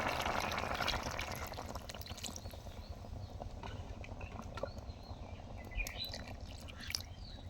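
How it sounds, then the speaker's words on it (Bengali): Water pours into a pan of simmering fish curry made with bottle gourd, a steady broad splashing wash that starts loud and settles into a softer bubbling trickle, close by with no talking. "এখন দিয়ে দেবে ঝোলের পানি"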